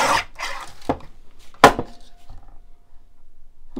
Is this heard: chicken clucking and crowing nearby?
no